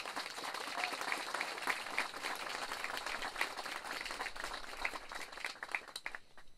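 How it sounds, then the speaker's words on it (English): A crowd at a memorial dedication for the Empty Chair Project applauds Greg and his team, a sustained, fairly soft patter of many hands clapping that thins out near the end. "Round of applause for them, please."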